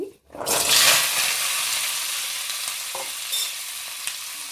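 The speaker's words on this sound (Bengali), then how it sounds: "এখন আমরা সবজিটা ভেজে নেব।" Chopped vegetables frying in ghee in a pot for khichdi, with a loud burst of sizzling right after a short pause, then a steady hiss with occasional stirring clinks.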